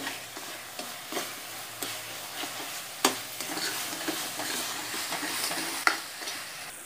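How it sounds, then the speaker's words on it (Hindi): Semolina mixture stirred in a pan for a laddoo with coconut, a spoon scraping in steady strokes over a soft, continuous background sizzle, with a few sharper scrapes standing out, close and moderately quiet. "पाँच मिनट तक इसको चलाते रहें ऐसे।"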